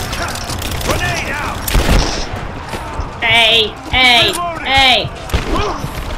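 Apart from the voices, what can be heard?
grenade explosions and gunfire in the video game Rise of the Tomb Raider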